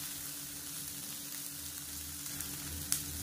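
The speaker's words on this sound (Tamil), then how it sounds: "இப்போ பாருங்க நல்லா வதங்கிடுச்சு." Chutney ingredients sautéing in a pan give off a soft, continuous frying sizzle with low background hum, close and fairly quiet, and one small clink near the end, with no talking.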